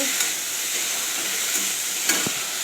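Pieces of eggplant fry in a pan with potatoes as a spoon stirs them, giving a constant close sizzle with a few soft scraping knocks of the utensil against the pan.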